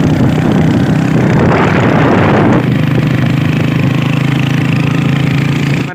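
A Kawasaki superbike engine runs loud and close, a steady deep rumble with one brief rise in revs before it settles back to a constant idle, with no talking.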